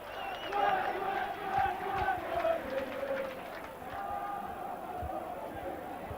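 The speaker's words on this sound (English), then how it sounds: "The crowd have come back to life, as we can hear" Stadium crowd roaring and cheering at a Workington Town versus Widnes rugby league match, a broad swelling din that rises and falls steadily throughout, with shouting voices and a commentator talking over it.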